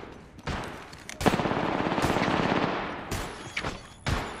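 Video game gunfire comes in loud, dense bursts, sustained automatic fire with brief gaps and sharp single shots, close and dominant with no talking.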